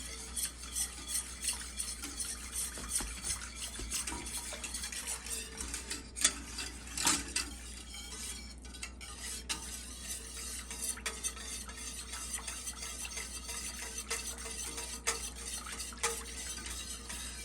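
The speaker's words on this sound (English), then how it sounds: "I'm going to use the whisk to stir it just in case there is any lumps that I have not caught." A whisk stirs a mixture in a pan to break up lumps, giving a quiet, continuous scraping and ticking of metal against the pan with irregular louder clinks, no voices.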